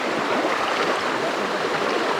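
A small river deep in the Abujhmarh forest rushes steadily nearby, a constant full hiss of flowing water with no other sounds.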